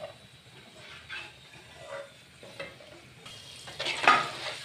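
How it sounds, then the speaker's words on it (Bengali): Carrot fries deep frying in hot oil, a soft bubbling sizzle with light scraping and stirring, swelling into louder frying near the end. "আরও বাকি গাজরগুলোও ভেজে নিচ্ছি একবারে।"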